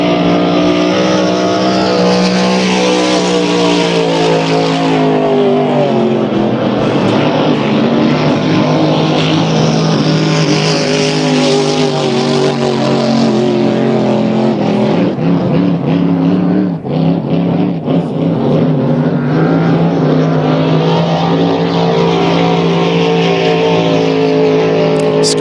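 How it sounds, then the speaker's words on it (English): Racing motorboats roaring at an annual resort boat race on open water, a loud continuous engine drone with shifting pitch as boats run the course, close and dominant throughout. "Guthrie, one lap to go for Scarlotta"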